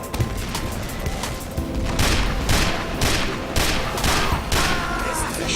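Gunfire and explosions in Team Fortress 2 come as loud rapid bursts and booms, several blasts spaced about a second apart over continuous battle noise.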